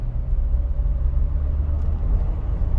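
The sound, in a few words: Tank 300 HEV hybrid 4x4 accelerating in normal mode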